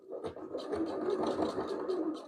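A sewing machine stitches a pants waistband in a steady, rapid whirring chatter of needle strokes that starts abruptly and continues at close range.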